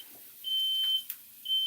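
A smoke alarm set off by an overheated pan in a home kitchen sounds two high, piercing electronic beeps, the second starting after a short gap, heard from another room with no talking.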